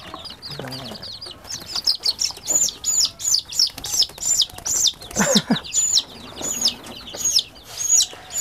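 Young KUB chicken chicks, about one week old, peep in high, rapid chirps, repeating steadily in a dense, lively cluster close to the listener.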